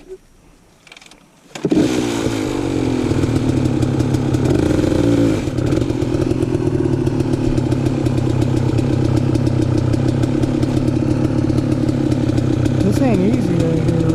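A hard enduro dirt bike starts up in a creek bed after a quiet moment, then runs on with a loud, steady, close engine drone and small throttle changes.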